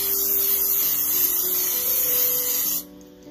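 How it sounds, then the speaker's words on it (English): A continuous hissing spray from an aerosol can, close and steady for nearly three seconds before it cuts off abruptly. "Now for your cooking spray"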